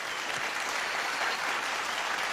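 Audience at a music award show breaks into steady, continuous applause, many hands clapping together at even loudness throughout.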